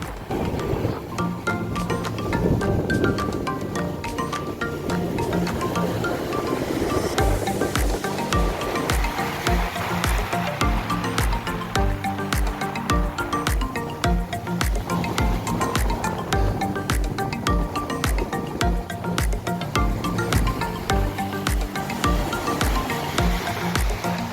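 Ocean surf washes and rolls steadily at Mayapadu Beach near Nellore, a broad, fairly quiet wash of waves with irregular splashes and gusty hiss across the whole stretch.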